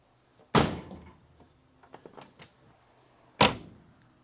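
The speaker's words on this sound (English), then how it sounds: "That's the sound of the latch hitting the striker" Two sharp, solid clunks of a Dodge Charger crew cab conversion's door latch hitting the striker, about three seconds apart, with small clicks and rattles between them, close and clear.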